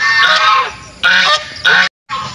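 Pet ducks (Filipino 'pato') at a farm fish pond let out loud, harsh honking calls in three bursts close by, with a brief silent gap before a final call starts.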